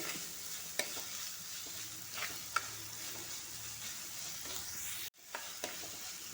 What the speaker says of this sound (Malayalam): ഉള്ളി ഇവിടെ വാടി വന്നിട്ടുണ്ട് അതിൻ്റെ കൂടെ ഈ തക്കാളിയും കൂടെ ഇട്ട് കൊടുക്കുകയാണ്